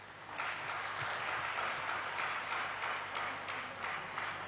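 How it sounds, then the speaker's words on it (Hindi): An audience at a Brahma Kumaris spiritual talk gives a speaker a welcoming round of applause, a dense, even wash of clapping that holds steady throughout without speech. "जोरदार तालियों की गड़गड़ाहट के साथ आप हमारे इन भाई साहब का स्वागत करिए"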